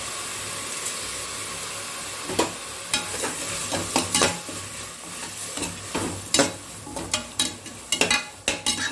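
Ingredients for chicken biryani sautéing with salt in a hot pan: a steady close sizzle and hiss broken by frequent sharp scrapes and clacks of a stirring spoon, with no voices.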